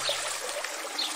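Water runs steadily over sheep's wool fleece during rinsing, a continuous close trickling and pouring wash that stays even throughout, with no talking.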